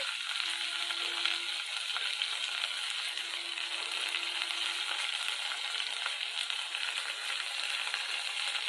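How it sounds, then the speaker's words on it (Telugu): Okra pieces and green chillies frying in a pan with ginger-garlic paste for a curry, giving a steady, close hiss of sizzling oil that runs unbroken throughout with no talk. "పచ్చిమిర్చి అన్నీ ఫ్రై అయ్యాక ఇక ఈ భెండి పీసెస్ని యాడ్ చేసుకున్నామండి"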